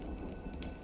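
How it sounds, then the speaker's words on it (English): Steady rain in the video game Honkai: Star Rail, a dense continuous patter filling the scene at moderate level with no other sounds on top. "When will this rain ever stop?"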